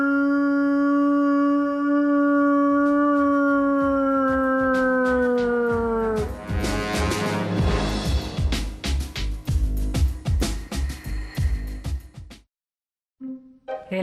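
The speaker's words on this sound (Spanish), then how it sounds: "El aullido de Marcos se funde con el de sus amigos, los lobos" Several long, wavering wolf howls rise and fall together, then give way to a burst of irregular knocks and thumps before cutting to silence.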